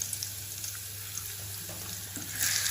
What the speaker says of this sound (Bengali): সবগুলো পটল তেল মধ্যে আমি দিয়ে দিচ্ছি।